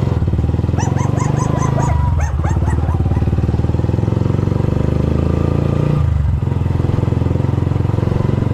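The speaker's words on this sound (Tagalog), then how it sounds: "Ang dami mo naman ng aso." Several dogs bark in quick bursts over a steady loud motor drone, likely a motorcycle idling nearby outside a house surrounded by floodwater, with the barking clustered early and fading.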